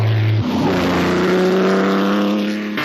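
A Ferrari V6 grand prix racing engine revs hard nearby, its pitch climbing steadily through the gears in a loud, continuous howl.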